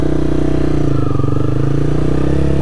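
Honda CBR125R motorcycle being ridden, its small engine droning loudly and steadily up close with a continuous buzzing hum and slight pitch shifts, no voices over it.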